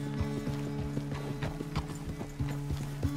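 Horse hooves clop in a steady, rhythmic gait in the Red Dead Redemption 2 video game, close and clear, over a low droning background, with no speech.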